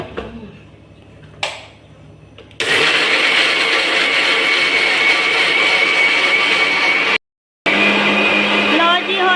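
A kitchen blender roars steadily at full power, grinding homemade juice ingredients with a little water, after a couple of brief starts; the loud whir cuts out once briefly, then resumes.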